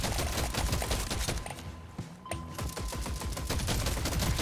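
Rapid gunfire from a sci-fi video game, with dense automatic bursts blasting at swarms of aliens, continuous and loud with a short lull midway before the shooting resumes.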